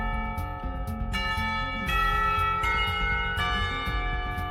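A school bell rings in the visual novel game Katawa Shoujo, a sustained, resonant chime with layered ringing tones that strike again partway through and fill the whole stretch without a break.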